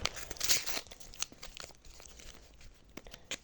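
A small paper packet crinkles and rustles near the microphone, loudest at the start, then fading into softer scattered crackles.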